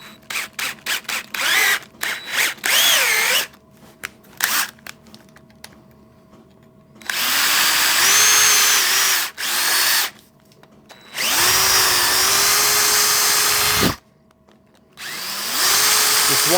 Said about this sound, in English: if I can put a drill through there, it's going to put a little groove in there as well as drill the brass